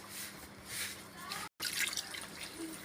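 A faint trickle of water pours in short dribbles onto a poha and semolina dough, with a few small splashes, quiet and close, broken by a brief moment of silence.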